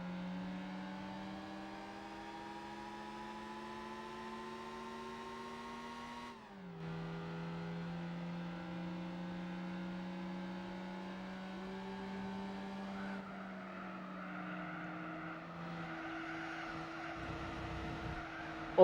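A race car engine in Gran Turismo 4 holds long steady pulls with rising pitch, breaking for one sharp gear change midway, then shifting lower near the end, moderately loud and alone.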